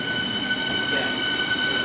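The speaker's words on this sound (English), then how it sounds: "What do you think's better, the class 395 Javelin or this class 465?" A Southeastern class 465 electric train at Gillingham railway station in Kent, a steady close rolling rumble with high whining and squealing wheel tones.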